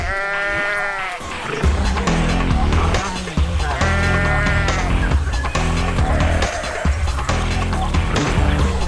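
Sheep bleat repeatedly over a dense, busy background of music and other sounds, the calls rising clearly at a few moments.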